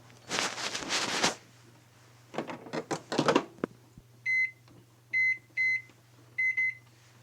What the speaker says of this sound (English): And then we put it in the microwave.